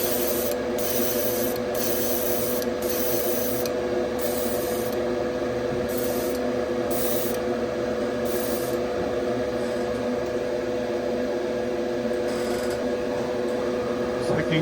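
A final coat of paint is sprayed onto a 1970 Chevelle scale model transmission. An airbrush gives a continuous close hiss over a steady fan-like hum, broken by short rhythmic bursts near the start.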